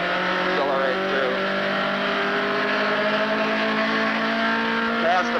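Datsun race car accelerating on a track, a loud steady engine note with rising harmonic tones that shift slightly near the end, heard up close and constant throughout.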